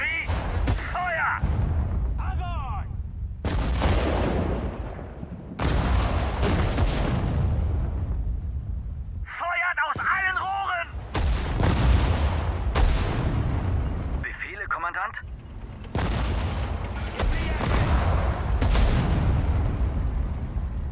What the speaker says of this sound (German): Artillerie. Feuer.